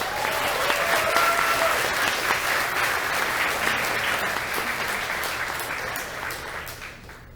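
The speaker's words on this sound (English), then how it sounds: "Give them a round of applause, guys." A crowd applauds steadily, dense clapping that holds strong before gradually thinning and fading out at the end.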